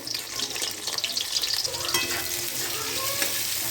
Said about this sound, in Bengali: কুচুনো পেঁয়াজগুলো দিয়ে দিলাম তেলের মধ্যে